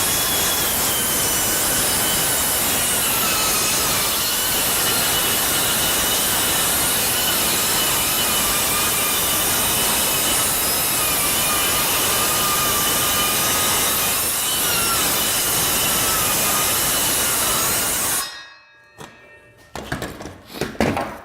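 A Makita cordless circular saw cuts through mortar and then half-inch plywood, a loud continuous grinding whine with gritty rasping for about eighteen seconds before the blade spins down and a few clunks follow.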